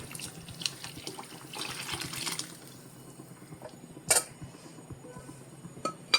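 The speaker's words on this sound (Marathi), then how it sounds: "हे डाळीचं पाणी हे देखील मी याच्यात घालतो आहे" Cooked lentil water poured into a pot of boiling Udupi-style sambar, soft liquid splashing and pouring in bursts with a few metallic clinks of the vessel, close and fairly quiet.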